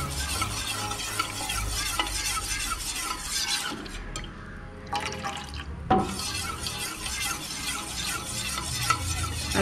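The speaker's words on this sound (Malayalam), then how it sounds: "വളരെ തീ കുറച്ചിട്ട് പതുക്കെ നന്നായിട്ട് ഇളക്കി കൊടുത്ത്" Rice batter for palappam being stirred in a pan over a very low flame, a close, steady wet scraping and bubbling, continuous apart from a short quieter pause midway.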